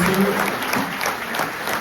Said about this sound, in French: je vous demande de les applaudir, les députés de la Kabylie